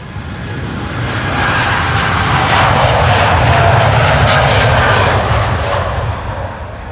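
A twelve-year-old United Airlines Boeing 787 Dreamliner departs Amsterdam Schiphol Airport for Chicago, its jet engines a loud, close, continuous roar that swells and holds before easing slightly, with no voices.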